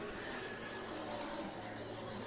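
Bats squeak and chitter inside the dark stone chambers of Golconda Fort in Hyderabad, a steady, faint, rasping chorus that carries on without pause and with no voices over it.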